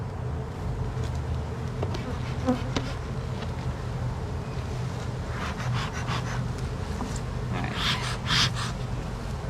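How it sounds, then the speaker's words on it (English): Honey bees buzzing around a hive, a continuous droning hum with individual bees passing close to the microphone, some louder fly-bys near the end. "I didn't like the amount of bees that were coming out of it this morning"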